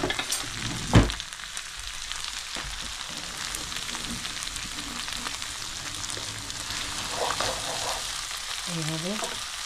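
Chicken noodles sizzle steadily in a hot spiced pan, opening with a soft thud as they drop in, followed by a dense, continuous crackle of frying. A voice briefly murmurs near the end.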